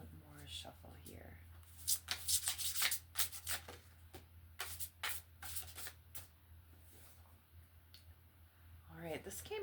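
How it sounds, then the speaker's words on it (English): Oracle card deck being shuffled by hand, a series of crisp riffling and sliding bursts with brief pauses between them, close and fairly quiet, with a soft voice speaking at the edges. "One more shuffle here."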